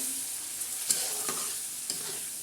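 Dal stirred in a hot pan with onion and spices for a spicy dal-kanda, giving a steady close sizzle with a few sharp spoon scrapes and clicks against the pan.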